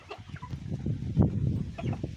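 Backyard chickens cluck in breezy weather, a close cluster of short throaty clucks and murmurs in quick irregular succession, one louder squawk in the middle.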